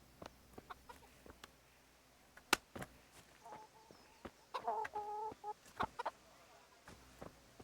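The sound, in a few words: chicken clucking in video game Kingdom Come: Deliverance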